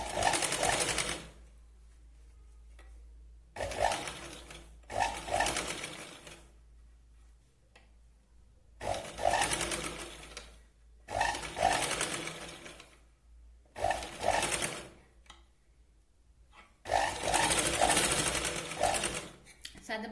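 A sewing machine runs in repeated bursts of rapid stitching while a katori blouse is sewn, each run lasting a couple of seconds with short pauses between, close and fairly loud.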